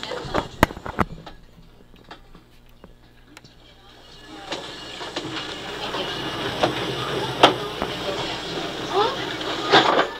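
The Disneyland Railroad theme park train, recorded in 1991, rumbles and clatters along with hissing and clanking, growing busier and louder in the second half, with sharp metallic clicks throughout.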